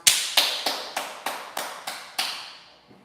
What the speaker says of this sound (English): Booty clapping sounds.